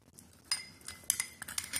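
A spoon mixing turmeric into milk in a bowl gives several quiet, bright clinks in quick, irregular succession, close by and faint, with no speech.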